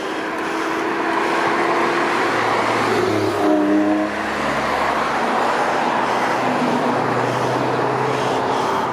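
Road traffic on a bank holiday near the route to Salzburg: a steady roar of cars rolling past close by, with a vehicle's engine tone rising and falling midway, no voices.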